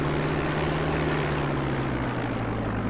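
Aircraft taxiing in X-Plane, a steady droning engine and propeller hum with a constant low tonal whine, loud and unbroken, no voices.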